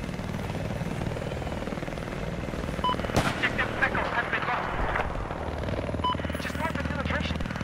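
Helicopter in the video game Battlefield 4, a loud steady rotor and engine roar throughout, with a sharp crack of gunfire partway through and brief bursts of in-game effects over it.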